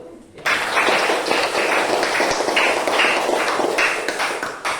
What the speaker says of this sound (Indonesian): Kepada kelompok 1 kita beri aplaus dulu.